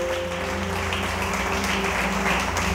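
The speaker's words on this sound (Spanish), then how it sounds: "vamos a darle ese aplauso grande a nuestro Rey de Reyes" A church congregation gives a big, sustained round of applause for the King of Kings, the dense clapping steady and loud for the whole stretch over a low, humming tonal background.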